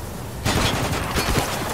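Gunfire rings out in the video game Spec Ops: The Line, with a sudden onset into a loud, dense run of rapid shots and blasts that continues to the end.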